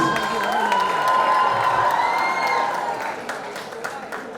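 A college festival crowd claps and cheers loudly as a guest comes onto the stage, with sustained applause, high whoops and screams, and a voice calling over the noise before it thins toward the end.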